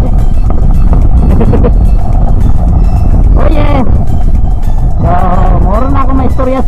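A stock Yamaha NMAX 155 VVA scooter runs flat out at top speed, its engine roar loud and steady under heavy wind buffeting, with someone talking briefly over it.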